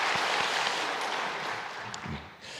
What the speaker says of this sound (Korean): 한 번 더 뜨겁게 영광의 박수 올려드리겠습니다